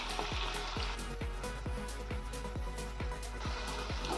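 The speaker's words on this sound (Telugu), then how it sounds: "టమాటా కన్నా ముందే మనం ఆయిల్లో వేసుకొని వేయించుకోవాలి" Fenugreek leaves and chopped tomato fry in hot oil in a pan for a methi aloo curry, giving a steady close sizzle with a regular series of soft stirring scrapes about every half second, no voices.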